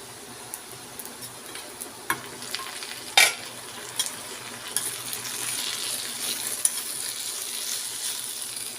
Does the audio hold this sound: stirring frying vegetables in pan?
yes